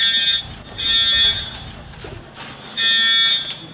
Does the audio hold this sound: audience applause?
no